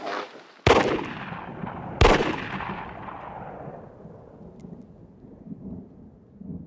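Two sharp, loud gunshots from a French army weapon fired on a shooting range, the first at about 0.7 s and the second at about 2 s, each followed by a long rolling echo that fades out.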